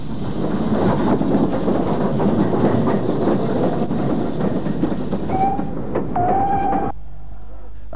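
A British mogul steam locomotive passes close by with a loud, steady rushing roar, brief whistle-like tones rising near the end before the noise cuts away to quiet.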